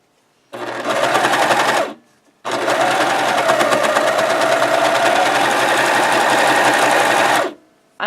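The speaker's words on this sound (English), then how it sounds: "Using a serger, it cuts the edge as you sew if you have your blade engaged." A serger sewing machine stitching and trimming a fabric edge with its blade engaged, a loud rapid mechanical whirr in a short burst, then a brief stop and a longer steady run of about five seconds.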